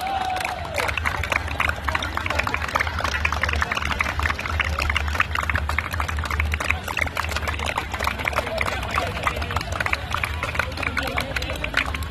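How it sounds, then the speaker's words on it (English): A large football crowd claps and roars in a dense, unbroken wash of applause at a Subroto Cup tie-breaker presentation, loud and sustained throughout. "A huge round of applause for our best goalkeeper."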